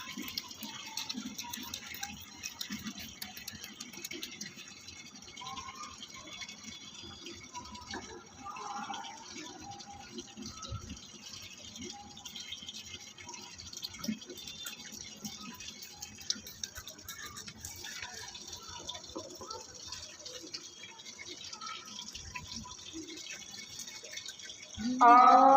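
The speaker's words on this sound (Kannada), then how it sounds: "ಇವಾಗ ನೀರು ತುಂಬ್ಸಕ್ಕೆ ಇಕ್ಕಿದ್ದೀನಿ ಗೈಸ್" Water runs from a tap into a container being filled for watering plants, a soft, steady trickle with small drips, heard with occasional background noise.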